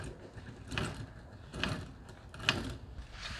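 Wrench working loose a bolt on a Burromax mini bike, giving three quiet ratcheting clicks at about even intervals, close by with no talking.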